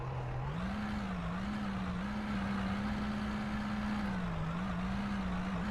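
In the Out of Ore game, a truck is driven with a loud, continuous engine drone. The pitch lifts early and then holds level with small wavering, and no voices are heard.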